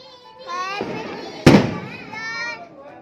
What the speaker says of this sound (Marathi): ये फटाके